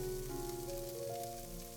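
Okra (bhindi) sizzling in a hot pan after the flame is off, a soft, steady crackling fry heard close and alone.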